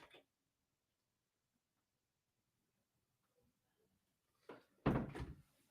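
A house door is opened to let a cat out: a faint click at the start, quiet room, then a couple of close thuds and a louder bang near the end.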